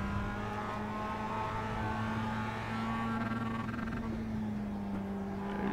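A sim racing car in iRacing buzzes against its rev limiter, a steady droning engine tone held at constant pitch for several seconds, loud and close with no talk.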